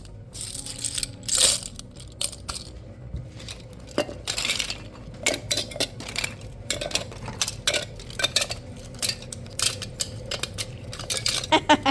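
Seashells are loaded into a rock tumbler barrel, clattering and clinking in close, irregular bursts of hard rattles and taps as pieces drop and knock together.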